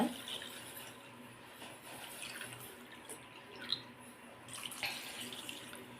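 Two cups of water pour steadily onto jaggery in a container with a soft, continuous splashing stream and a couple of small clinks, fairly close and quiet.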